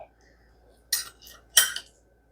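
A spoon digs into a hot corn and bacon casserole in its dish, making two brief close scraping clinks against the dish in an otherwise quiet room.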